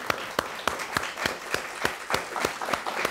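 Sparse applause for panelists at the close of a university discussion, with a handful of distinct claps spaced out in a loose rhythm over a quiet room, fairly faint overall.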